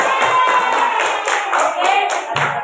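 Fifth-grade pupils clapping in an elementary school classroom, a loud, ragged burst of hand claps with a faint murmur and a tonal whine underneath, close and continuous.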